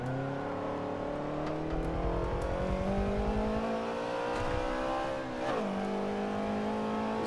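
Race cars in Forza Motorsport 7, including a Mazda 3, with a steady droning engine note that rises and shifts as cars accelerate side by side, with continuous moderate tire and engine whine and no talking.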